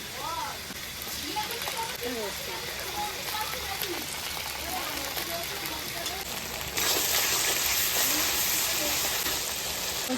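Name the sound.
ginger garlic paste frying with onions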